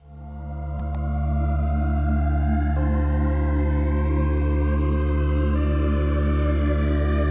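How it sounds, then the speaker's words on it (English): Dark, eerie cyberpunk-style synth pad from a Pigments preset, a sustained layered drone with steady low tones and shimmering upper harmonics that swells in and holds at a loud, even level throughout. "So I just opened Pigments and I looked for a preset that would fit with the theme of Cyberpunk."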